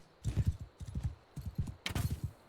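Horse hooves gallop in the video game Mount and Blade 2 Bannerlord, quick rhythmic clip-clop bursts in four groups, fairly faint, with no talk.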